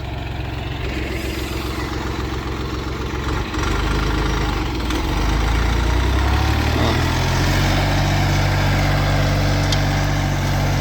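A tractor engine runs at about 2000 rpm while pulling a cultivator through a field being sown with soybeans: a loud, steady, low mechanical drone that holds constant throughout, with no voices.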